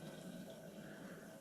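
Boiling water from a kettle pours steadily into a bowl, a soft continuous splashing stream, quiet and close, with no talking.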